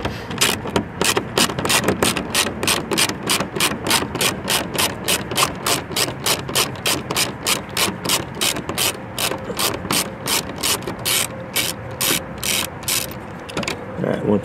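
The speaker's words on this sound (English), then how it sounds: "we're going to take our 7mm socket and remove the factory screws" Ratchet with a 7mm socket removing factory screws on a 2024-2025 Mustang, giving a long, loud, close run of rapid rhythmic clicks that slow and spread out toward the end.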